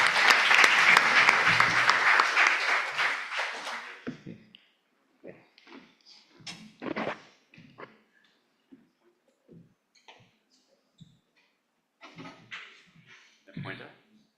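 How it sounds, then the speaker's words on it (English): Applause from a lecture audience welcoming a guest professor, a loud burst of clapping that fades out after about four seconds, followed by sparse talk and small handling sounds in a quiet room. "let's give big applause for him"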